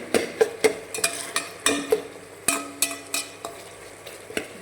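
Spices sautéing in a pan for vathal kuzhambu, a spoon stirring and scraping the metal in rhythmic strokes with sharp clinks, close and clear over a soft sizzle.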